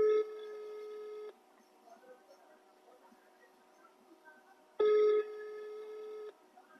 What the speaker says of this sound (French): j'essaie de joindre Amao, ils n'ont pas décroché